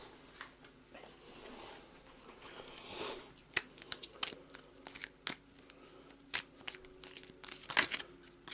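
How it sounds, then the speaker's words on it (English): Playing cards for the board game A Touch of Evil are shuffled by hand, a quiet run of soft riffling and sharp snapping clicks, close and without speech. "Rubbish shuffling."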